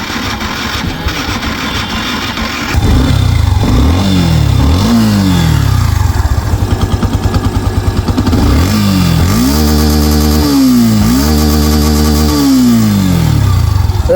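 Yamaha FZS version 3 BS4 motorcycle, about 21,461 km on it, idling at first and then revved repeatedly with rising and falling engine pitch. Loud and close, with no talking.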